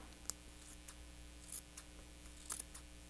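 Scissors trim the hair on a handmade elf craft in a few quiet, sharp snips scattered among faint clicks, heard close against a near-silent room.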